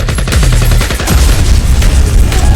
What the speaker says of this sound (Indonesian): Dia kemudian menembak mereka dengan senjata otomatis.